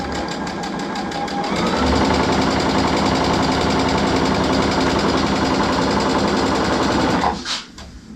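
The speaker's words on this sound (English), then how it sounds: "we're going to sew on either sides of the center" Domestic sewing machine running steadily as it stitches a cloth dog bandana pillow, loud and close, a continuous rapid mechanical whir that slows and stops near the end.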